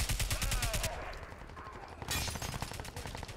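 Rapid automatic tracer gunfire in Crysis 2, a fast rhythmic burst at the start, a brief lull with ringing, then a second stuttering burst.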